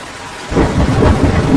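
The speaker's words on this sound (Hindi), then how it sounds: "बारिश बहुत तेज थी।" Heavy rain pours down in a dense, steady roar with low rumbling, starting after a short quiet moment and continuing loudly to the end.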